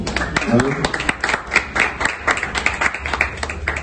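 Audience applause during a plaque presentation at an anniversary celebration, uneven clapping with distinct individual claps and some talk underneath.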